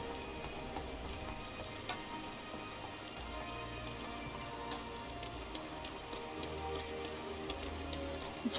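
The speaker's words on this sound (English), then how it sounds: "It's raining." Rain falls in the video game Final Fantasy XIV, a steady patter of drops ticking on surfaces over a soft, constant hiss. It stays moderately quiet and continuous throughout, with no talking.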